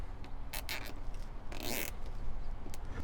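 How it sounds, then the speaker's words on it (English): Zip ties ratcheting tight on a drift stitch, a few short bursts of rasping clicks against a steady low background, with no talking. "start tightening up those zip ties"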